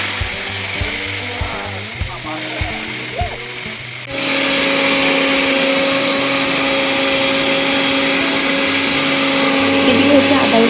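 A kitchen grinder making ginger-garlic paste whirs loudly and steadily after several seconds of people talking, its high motor whine running to the end under occasional voices.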